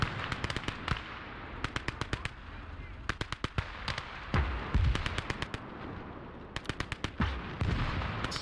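Artillery and gunfire in the Call to Arms: Gates of Hell battle game: rapid clusters of sharp cracks and booms come in irregular bursts, with a few heavier thumps among them, loud against a low background.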